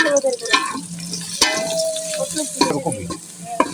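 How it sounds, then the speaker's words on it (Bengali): Onions fry in oil for bhuna khichuri, crackling and sizzling up close with stirring scrapes and clinks, while voices murmur in the background. "পেঁয়াজগুলো ভেজে নেব রান্না করার জন্য"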